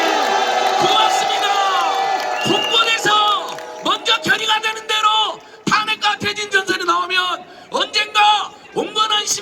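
A large outdoor candlelight rally crowd cheers and shouts in loud bursts, voices rising and falling in waves with short pauses between.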